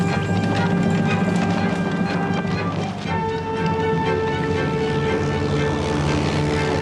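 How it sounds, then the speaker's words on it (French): A propeller warplane roars overhead during a wartime air raid, a loud, sustained engine drone whose pitch shifts midway as it passes. "Avion!"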